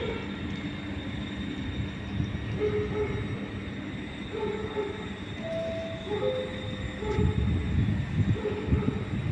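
A Trenitalia train pulls into platform 1 at Padova station, a low steady rumble of wheels and carriages with brief high-pitched squeals of brakes and rails rising over it, heard alone at moderate volume.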